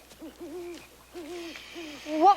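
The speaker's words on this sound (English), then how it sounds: "It's just an owl." An owl hoots in dark woods in a film scene, a few soft rhythmic hoots in short groups, fairly close and quiet, followed by a brief hiss near the end.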